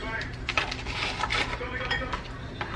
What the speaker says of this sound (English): I'm gonna take my cheesecake pudding mix. I'm gonna add some of that as well.